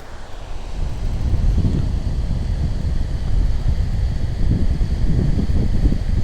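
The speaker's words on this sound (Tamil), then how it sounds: "இதுதான் அஞ்சல் வீடு ஃபால்ஸ்னு சொல்லுவாங்க." Anju Veedu waterfall in Kodaikanal roars as a steady, broad rush of falling water, dense and continuous throughout with low rumble, mixed with some wind buffeting on the microphone and no talk.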